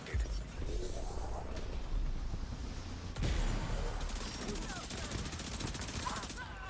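Rapid bursts of gunfire from The Division 2 in heroic PVE combat with SMG and shotgun loadouts, dense overlapping shots running continuously throughout, loud and close amid a busy game soundscape.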